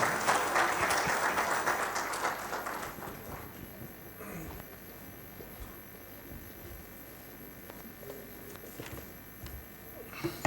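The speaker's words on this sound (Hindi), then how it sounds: "आप सबकी भरपूर तालियां" Applause from the audience at a career-counselling session of the Growth Summit 2023, full for about three seconds, then dying down into a few scattered claps in a quiet hall.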